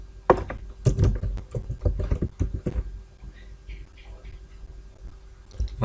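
Computer keyboard keys clack in a quick burst of several close strokes during a copy-and-paste shortcut, then taper to softer scattered taps.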